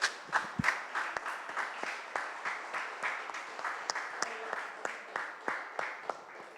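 A church congregation claps in unison to praise God, a rhythmic series of sharp, evenly spaced handclaps repeating steadily at moderate volume, with faint voices underneath.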